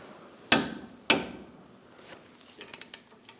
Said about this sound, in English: Now we're going to torque these to 74 foot-pounds and then an additional 15 degrees.